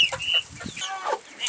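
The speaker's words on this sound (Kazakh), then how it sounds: "Міне бройлер асырап жатырмын." Broiler chickens three to four months old on a small farm, clucking and squawking in short close bursts, a few overlapping calls in quick succession.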